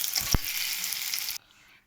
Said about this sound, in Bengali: তো আমি এক এক করে সব ভাজবো বড়াগুলো লাল লাল করে